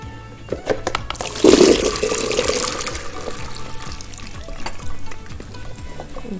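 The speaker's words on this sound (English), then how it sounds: "So what I'll need now to do is to drain them out." Water from boiled carrots pours out in a splashing gush that swells to a loud rush and then trickles on, with clinks of a pot or strainer and faint voices in the background.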